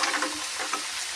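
Mussels added to a hot pan and stirred, a short burst of dense sizzling with scraping stir sounds, close and fairly loud.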